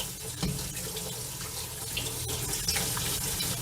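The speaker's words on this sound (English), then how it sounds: "I'm gonna continue rinsing until I feel them cold with my hands" Kitchen faucet water runs steadily into a sink while potatoes are rinsed to cool them, a continuous close splashing stream with small clatters and no voices.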